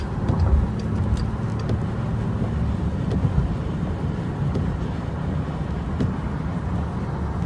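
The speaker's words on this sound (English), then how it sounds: "So it's truck after truck after truck after truck." Heavy trucks roll past one after another on a highway, making a steady, close, broadband roar with wind buffeting the microphone and no clear breaks between vehicles.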